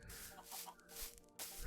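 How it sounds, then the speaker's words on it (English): Chickens cluck in quick, overlapping bursts inside the blocky video game Minecraft, a flock spawned and falling from the sky, the calls fairly faint and continuous across the moment with no talking. "Oh my goodness, there's chickens. It's raining chickens."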